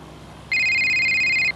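A cartoon shell phone rings once in a single bright, steady electronic tone lasting about a second, clear and close over a quiet background.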